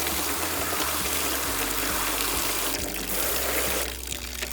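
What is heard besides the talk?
water sprayed over LeafSolution micromesh aluminum gutter guard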